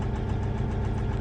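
A Versatile 2360 tractor's diesel engine runs steadily at idle with one injector cut out, giving a loud, continuous low rumble with a faint knocking throb and no talk.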